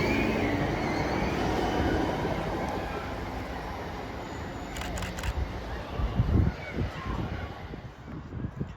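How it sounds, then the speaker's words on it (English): A Class 323 electric train, unit 323225 bound for Manchester Piccadilly, at Mauldeth Road station: a steady, close rail rumble with rhythmic wheel clicks and thumps building toward the end. "here we are at Mauldeth Road, 323225, bound for Manchester Piccadilly"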